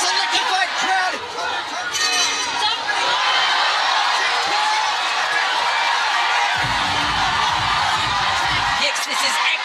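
A packed, electrified crowd at a One Championship kickboxing bout featuring Rodtang Jitmuangnon, roaring continuously with cheers and oohs, a loud sustained wall of sound with a commentator talking over it.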